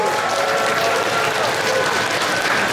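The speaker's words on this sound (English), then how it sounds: "Let's hear a round of applause for both robots." Audience applause at a 3lb combat robot event as a match ends, a dense, steady wash of clapping from a crowd, loud and continuous throughout with some crowd noise mixed in.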